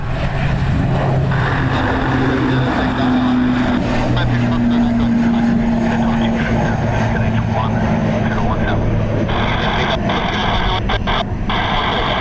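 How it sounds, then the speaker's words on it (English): An ATR turboprop airplane taking off into a headwind on the north runway at Dublin Airport, a loud, steady propeller and engine roar with droning tones, with a voice talking over it. "It's going to be an early rotate for the ATR with the headwind they have."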